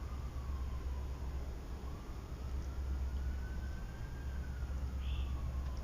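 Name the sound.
distant emergency sirens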